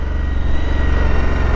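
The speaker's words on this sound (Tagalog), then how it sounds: "ito na yung motor na i-vlog natin, V-Storm 1050" A Suzuki V-Strom 1050 adventure motorcycle idles close by, its engine holding a steady, throbbing low rumble with a regular pulsing beat.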